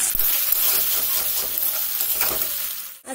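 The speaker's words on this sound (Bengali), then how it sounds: "এখন মশলাটি ভালোভাবে কষিয়ে নেব।" Spice paste for a Bengali bata fish curry is stir-fried in a pan, giving a loud, close, continuous sizzle with scraping stirs, cutting off sharply at the end.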